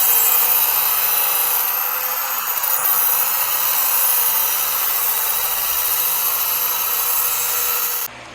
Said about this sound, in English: I just cleaned those up with the die grinder